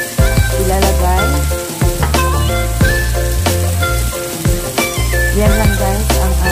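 Zucchini stir-fries in a pan with oyster sauce and doubanjiang, giving a steady close sizzle with stirring scrapes under rhythmic background music.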